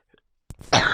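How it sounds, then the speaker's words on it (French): A woman's single sharp cough bursts out after near silence, followed by a rough, breathy throat sound up close. "c'est pas agréable pour vous de m'entendre tousser"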